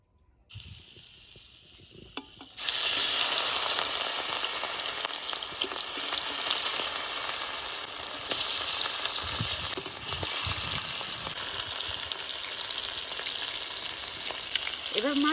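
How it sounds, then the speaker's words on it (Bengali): Mustard oil heating in a hot wok for frying fresh rohu fish, a low rush that jumps into a loud, steady sizzle about two seconds in and holds at a constant hiss with faint scraping. "কড়াই গরম হয়ে গেছে, এবার সর্ষের তেল দিয়ে দেবো।"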